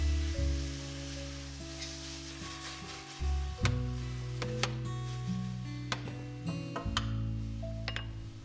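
Chilled marinated fish hits hot oil in a large flat-bottomed pot and sizzles steadily, with clinks and scrapes from stirring and turning the pieces, close and moderately quiet, no voices.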